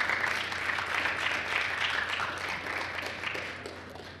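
An audience at a ceremony revealing the 2014 British Virgin Islands CARIFTA Games athletics team claps steadily throughout, a dense, even patter of many hands over a faint low hum.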